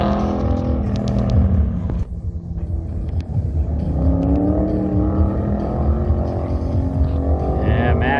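Pro touring truck lapping an autocross course, its engine roaring loud and steady throughout with rising and falling revs as it works through the lap, a brief dip near the middle before pulling hard again.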